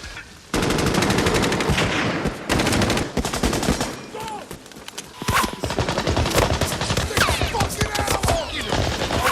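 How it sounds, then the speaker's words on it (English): Machine gun fire in the war film Saving Private Ryan, loud dense bursts of rapid automatic shots with brief pauses, battle noise filling the whole stretch. "Why do they keep shooting him up like that?"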